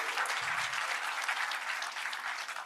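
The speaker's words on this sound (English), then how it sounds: "a big round of applause to all of you." Conference audience at an AI congress and awards event in Pune applauds, a close, dense, steady clapping that continues throughout at even loudness.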